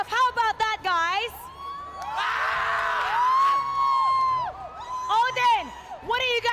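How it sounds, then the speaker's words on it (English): Esports fans cheering at a BLACKLIST versus APBREN match, a loud crowd roar with whoops and shouting that swells for several seconds between bursts of excited voices. "we're gonna settle this with a cheer off"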